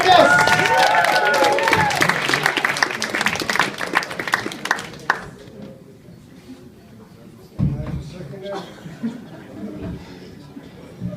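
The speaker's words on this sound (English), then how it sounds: "So start clapping with those hands, make a lot of noise for Socrates!" A comedy club crowd in a café claps and cheers as a stand-up comedian takes the stage. The loud applause and whoops fade after about five seconds, leaving murmuring chatter and scattered claps.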